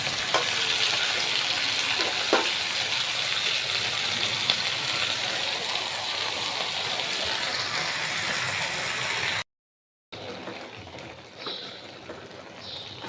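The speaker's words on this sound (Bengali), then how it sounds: "পানিগুলো শুকাইয়া ভাজা ভাজা করে নিব না" Bottle gourd leaves (lau shak) fry in a pan with a steady, close sizzle and occasional stirring scrapes, interrupted by a brief gap of silence.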